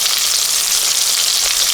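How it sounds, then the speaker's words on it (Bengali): Red amaranth greens fry in a pan with a loud, steady hiss and crackle of hot oil, heard up close with no talking. "এখানে করছি লাল শাক ভাজা।"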